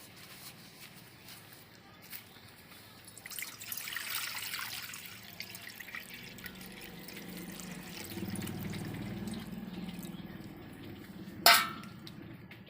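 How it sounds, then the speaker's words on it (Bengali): Water poured into a wok set on a stove, a soft splashing rush that swells briefly and then settles into a low, steady trickle, faint and close, ending with a sharp click. "এবার কড়াই আমি জল দিয়ে দেব।"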